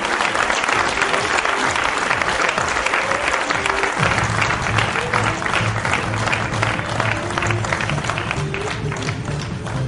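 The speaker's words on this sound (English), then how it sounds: "Can I hear a big round of applause once again?" Loud, sustained applause from an audience at the ISA Technovation Awards 2008 ceremony in India, honoring an award recipient; dense steady clapping fills the whole stretch with no break.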